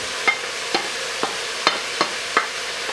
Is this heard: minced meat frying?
yes